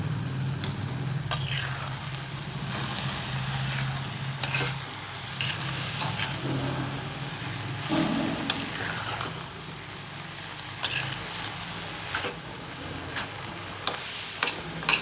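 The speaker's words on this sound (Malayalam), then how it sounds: "അപ്പോൾ നമ്മളൊന്ന് പൊക്കി നോക്കാം, എന്നിട്ട് ഒന്ന് ഇളക്കി കൊടുക്കാം." Chopped banana flower stir-fries in a pan, with a soft continuous sizzle broken by repeated scraping stirs and clicks of the spoon against the pan, close and fairly quiet.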